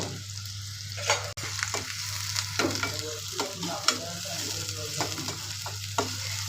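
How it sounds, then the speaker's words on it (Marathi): Onion hits hot oil in a pan for a quick eggplant dish, sizzling steadily up close while a utensil stirs with repeated soft scrapes and taps over a low steady hum, no one speaking. "तेल तापलेलं आहे. आपण त्यात टाकू आता कांदा."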